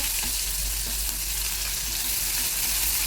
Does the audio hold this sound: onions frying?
yes